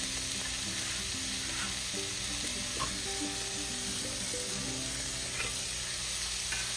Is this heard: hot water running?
no